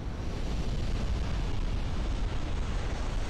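A warship flash-fire explosion in the naval game Ultimate Admiral Dreadnoughts, a steady dense roaring rumble that holds at even loudness throughout, like a sustained blast and fire rather than a single crack.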